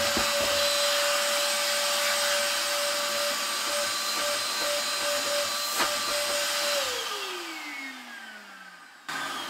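A Scheppach shop vac with a 100mm hose runs with a loud, steady whining roar, then winds down as the motor is switched off, its pitch sliding lower before it stops abruptly.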